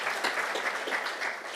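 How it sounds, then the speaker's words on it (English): Conference attendees at an academia-public-private partnership forum give the Executive Secretary a round of applause, an even, moderately distant wash of many hands clapping continuously throughout. "Let's clap again to thank you for his."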